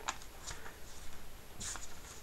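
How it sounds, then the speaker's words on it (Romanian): Paper pages of a children's Bible rustle and flip softly, a few brief crisp swishes close by in a quiet room. "Hai să mai dăm pagina, să mai citim ceva,"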